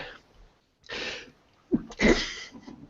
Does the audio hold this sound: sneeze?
yes